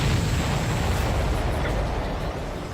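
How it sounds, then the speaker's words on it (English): A supply ship blowing up in Ace Combat 7, a dense, roaring explosion rumble that fills the clip with heavy low-end noise and slowly fades slightly. "Did you see that explosion?"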